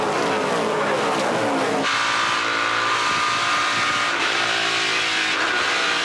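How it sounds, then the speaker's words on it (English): NASCAR Pinty's Series race cars at the Grand Prix of Toronto street circuit, engines loud and close as a car brakes hard and downshifts through the gears approaching a turn, steady engine roar throughout. "Jason White hard on the brakes, shifting through the gears down into turn number three."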